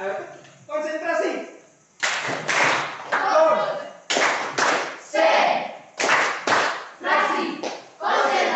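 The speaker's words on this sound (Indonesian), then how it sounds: "Tepuk semangat." A school class claps in unison, sharp rhythmic bursts of hand claps in repeated short patterns between spoken phrases, close and fairly loud in a classroom.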